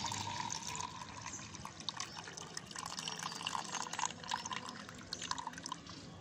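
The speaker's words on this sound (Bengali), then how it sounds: "এবার আমি জলটা একটা মগের মধ্যে ভর্তি করে নিচ্ছি।" Water is poured into a mug for watering aloe vera plants, a steady close trickle and splash running for several seconds.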